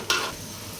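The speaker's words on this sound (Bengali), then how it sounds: "পেঁয়াজ দিয়ে দিচ্ছি প্রথমে।" Onions dropped into hot oil in a pan at an outdoor picnic cookout, a sudden close burst of sizzling that settles into a steady hiss, no talk.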